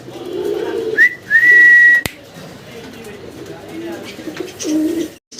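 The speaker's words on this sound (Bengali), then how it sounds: "আমরা আরো এক পেয়ার মুখী কবুতর বাইরের কাছে দেখতে পারতেছি।" Fancy mukhi pigeons at a pigeon farm give low, throaty coos in short bursts near the start and end, with a bright whistle in between and voices talking.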